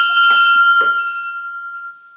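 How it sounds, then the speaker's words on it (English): A school debate timing bell gives a couple of quick metallic strikes and then a clear ringing tone that fades out slowly over about two seconds, close and alone. "It's the final bell."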